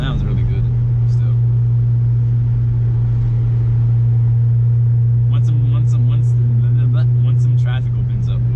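Audi B6 A4 2.0 turbo with a full ECS catback exhaust, driving at night, heard from inside the cabin as a steady, loud low drone that holds through the whole stretch, with brief higher clicks and taps toward the end.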